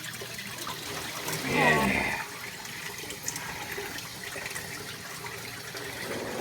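Running water splashes briefly during a dog's bath, a short burst of flow that fades into quieter dripping while a person speaks softly nearby.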